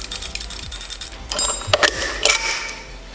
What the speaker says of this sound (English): Now I'm going to remove the bracket from the frame with these 2 12mm bolts here.